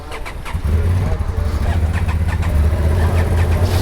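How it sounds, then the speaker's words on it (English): Several Honda XL750 Transalp adventure motorcycles starting up together, their engines catching and settling into a loud, close, rumbling idle after a brief quieter moment. "Gentlemen, start your engines."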